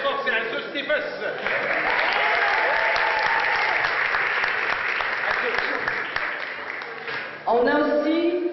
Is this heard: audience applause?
yes